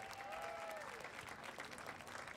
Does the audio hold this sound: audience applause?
yes